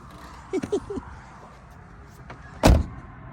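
A car door is unlatched from inside by pulling its small lever, a few quick plastic clicks followed by a louder clunk as the latch releases, close up in a quiet cabin.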